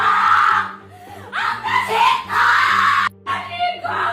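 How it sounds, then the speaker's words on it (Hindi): Women scream and cry out in distress during riots in Bangladesh, loud overlapping wails and shrieks mixed with agitated voices talking nearby. "महिलाओं की चीख पुकार आपने सुनी"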